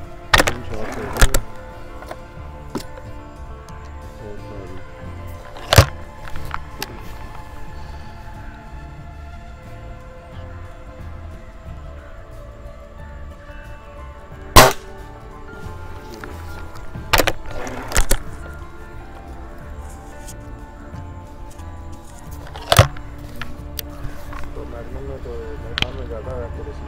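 Sharp single air rifle shots from a Cometa Fusion Galaxy firing JSB 18 grain pellets, about eight cracks spaced several seconds apart, while someone talks steadily between them.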